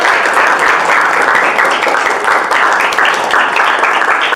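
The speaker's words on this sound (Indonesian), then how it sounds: "Bapak mau sekali lagi mengapresiasi kalian dengan tepuk tangan semuanya dulu" Classroom audience of students giving a loud, sustained round of applause at the close of a teaching session, dense and continuous until it cuts off abruptly.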